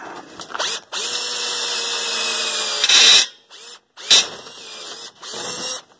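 A power drill with a dull bit whirs loudly in long steady bursts, stopping and restarting several times with brief gaps between runs.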